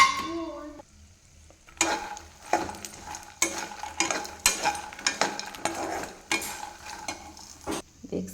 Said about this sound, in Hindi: अब तेल भी गरम हो चुका है, अब इसको डाल देते हैं और फ्राई करते हैं अच्छा से।